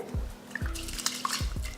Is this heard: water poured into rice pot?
yes